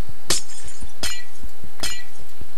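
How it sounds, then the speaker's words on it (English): Glass blocks shatter in Minecraft: three sharp, loud breaking crashes spaced under a second apart, with softer thuds of hits between them and no talk. "I'm going to tear all this glass out"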